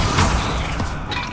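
Bombarda blasting spell in Hogwarts Legacy bursts into a loud, booming explosion with a crashing impact, then rumbles briefly and fades.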